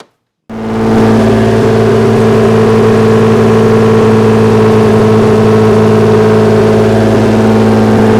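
Twin-turbo DeLorean engine runs after starting from silence, a loud, steady mid-pitched hum and whir that holds constant with no talk, close by.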